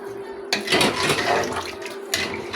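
Water gushes and splashes into a pot in a steady rush that starts suddenly and runs for a couple of seconds, with a brief surge near the end.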